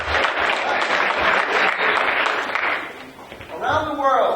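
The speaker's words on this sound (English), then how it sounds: "let's give her another round of applause to get her set to play" Audience applause at a young composers' night concert, a steady burst of clapping for a performer that fades, followed by a person starting to speak.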